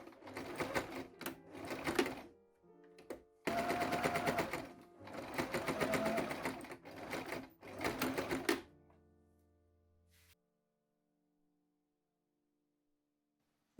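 A sewing machine stitches the boning channel at the waist of a pair of 1750s stays. It runs in several rapid rattling bursts with short pauses between them, then stops, leaving a quiet tail.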